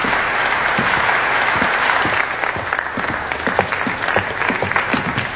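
A crowd applauds steadily for about five seconds in a dense, continuous wash of clapping at close range, with no voices standing out.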